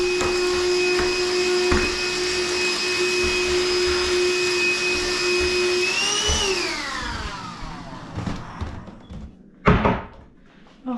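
A household vacuum cleaner runs with a loud, steady whine, then spins down. Bumps and thuds from handling it follow, and one sharp knock stands out near the end.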